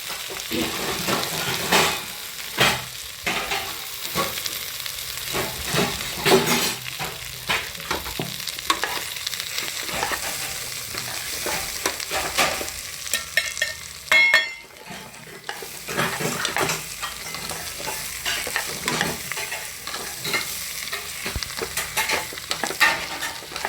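Spiced rice for masale bhat being roasted in a pan, with continuous close sizzling and frequent irregular scrapes and clinks of a spoon stirring, plus a brief quieter gap midway.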